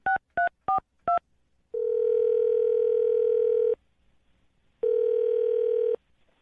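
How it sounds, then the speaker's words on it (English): Phone call being placed: four quick touch-tone dialing beeps, then two long, loud ringback tones separated by a silent gap, clean and close with no voices. "I'm going to dial his phone number right now"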